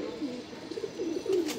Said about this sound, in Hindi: एक ये फुलसरा कबूतर है